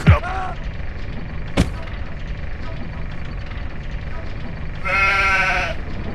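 Two sheep bleats over a low, steady game-style background: a brief one at the start and a longer, wavering one near the end, with a thud between.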